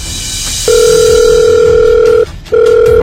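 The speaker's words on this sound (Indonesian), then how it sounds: "Gue bakal telepon akun lu di aplikasi kencan. Kalau sampai HP lu bunyi," A mobile phone rings loudly with a dating-app call, giving one long steady electronic tone, a brief pause, then the next tone starting, with no voices.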